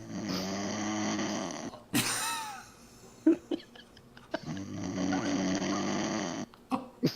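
A man snoring loudly while asleep: long, rasping snores in a slow rhythm with a pause between them, close to the microphone, with a few short noises and faint voices in the gaps.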